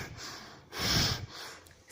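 A voice imitating a stranger breathing heavily from behind, two close breathy huffs, the second louder and longer, with no words.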